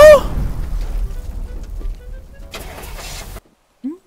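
An indestructible, bulletproof truck in the game Teardown cranks and sputters without catching, a loud rough engine rumble that fades, stutters and cuts off abruptly, followed by a brief faint sound.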